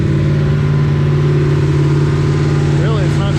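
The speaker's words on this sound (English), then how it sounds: "So the biggest thing is to keep it up on high RPM and vary the RPM." A new engine being broken in is held at high RPM, giving a loud, steady, close droning hum with little change in pitch, and a brief voice is faintly audible near the end.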